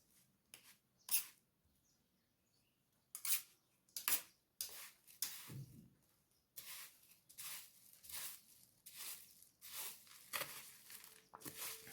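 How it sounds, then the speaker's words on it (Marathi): Bhel of chopped onion, tomato, sev and puffed rice being tossed and mixed, a run of quick dry rustling, crunching scrapes and spoon clinks in irregular bursts, close by with no talking. "तर हे सर्व मिश्रण आपण एकत्रित करून घ्यायचे आहे."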